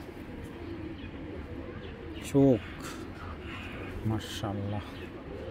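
Racing pigeons in a pair coo in two short bursts, one near the middle and another low, rolling one toward the end, close by over steady background noise while someone talks.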